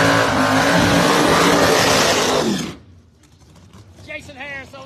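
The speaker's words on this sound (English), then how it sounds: "Jackie Sloan coming up in a beautiful GM Genuine Parts Machine" A drag race car roars past loudly at a test session, a dense full-throttle blast that cuts off abruptly, followed by quieter background with a voice talking.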